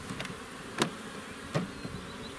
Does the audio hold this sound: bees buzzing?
yes